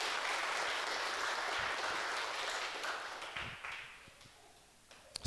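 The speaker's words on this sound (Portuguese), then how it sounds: "eu gostaria também de pedir uma salva de palmas para o Astor, o mais novo membro da nossa congregação" A church congregation applauds during an online service: a steady wash of clapping from many hands that holds, then gradually thins and fades toward a few scattered claps at the end.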